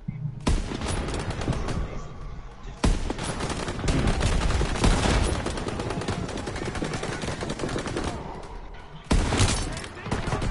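Dense Call of Duty WW2 gunfire fills the mission: rapid bursts and sustained automatic fire, loud and close, broken by short pauses, with a voice talking over it at times.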